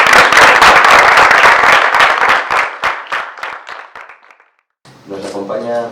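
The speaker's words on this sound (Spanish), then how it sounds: "Un aplauso, ¿no?" A round of applause from an audience at a biotechnology industry breakfast panel, dense clapping that thins out and fades over about four seconds before a voice starts speaking.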